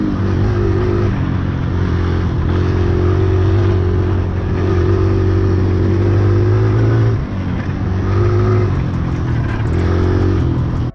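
Kawasaki KLX 140 dirt bike with a 12-tooth front sprocket, its engine buzzing loudly and close while riding, rising and dipping in pitch with throttle changes and briefly easing off near the end.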